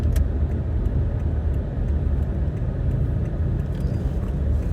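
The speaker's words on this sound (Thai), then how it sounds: "วันนี้ก็รถติดครับพี่น้องครับ ายครับ รถเยอะมากครับวันนี้" Dense road traffic in a jam on the way to The Mall Bangkapi in Bangkok, heard as a continuous low rumble of many car engines at steady loudness with no talking.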